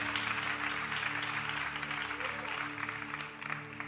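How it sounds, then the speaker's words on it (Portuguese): A church congregation applauds in a sustained, dense burst of clapping that fills the room, with a steady low musical hum underneath and no talking. "Você pode aplaudir a Ele se você quiser, meu irmão. Aplauda ao Senhor."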